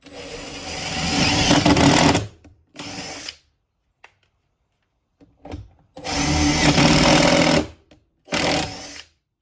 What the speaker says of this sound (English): So now that I pre-drilled and I got into the wood